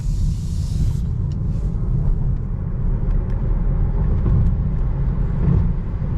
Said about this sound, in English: Let's do a little acceleration here.